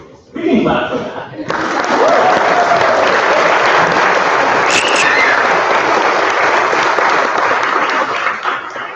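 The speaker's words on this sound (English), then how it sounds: "We can clap for that." Wedding guests break into loud, sustained applause that swells after a brief spoken moment and carries on steadily, with scattered laughter mixed in.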